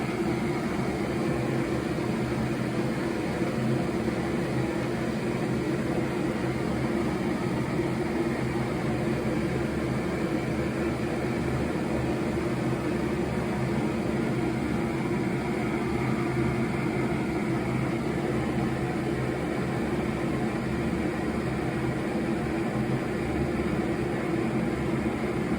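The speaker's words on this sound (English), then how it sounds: "I'm boiling 2 cups of water." A Fire Maple Petrel Quickboil Pro camping stove heats two cups of water indoors in a kitchen, giving off a steady, unbroken roaring hiss that stays level throughout with no voices.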